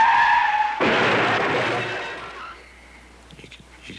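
A red Fiat slides sideways in a staged crash reenactment, a sudden harsh tire skid that cuts in over engine hum, holds for about two seconds, then fades to faint ticks.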